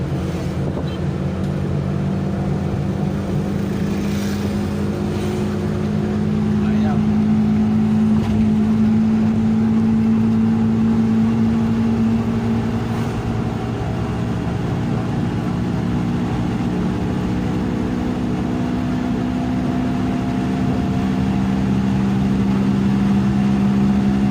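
Suzuki Multicab engine running hard at top speed, a loud steady drone with sustained harmonic hum and a rising whine partway through, continuous and close throughout with no voices.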